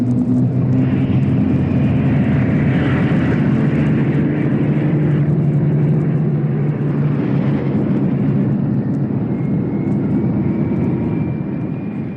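Many propeller aircraft take off together toward Blackpool, a steady loud engine roar and drone that fills the whole stretch without a break and eases off slightly at the end.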